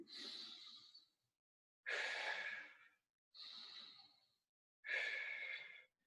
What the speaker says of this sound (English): I'm breathing in on the way down, out on the way up